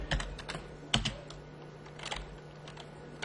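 Clicks from a computer keyboard as someone types, a few sharp keystrokes near the start and then lighter, scattered taps over a quiet background, with no talking.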